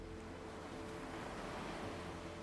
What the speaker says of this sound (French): Entendre le son des vagues